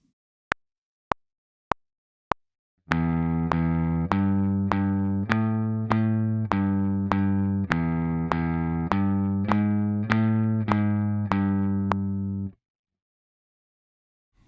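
Four metronome clicks count in, then a guitar plays a simple, even melody of steady plucked notes with clicks continuing, clear and close.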